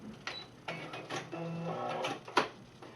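A sewing machine stitches fabric for a face mask in short bursts of rapid mechanical chattering. A sharper clack comes near the end, and the whole thing sounds close and moderately loud with no talking.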